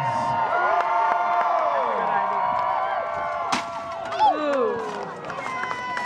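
Spectators at a medieval fair joust cheer, shout and whoop loudly for the charging knights, a sustained crowd roar with a brief sharp crack partway through and excited voices throughout.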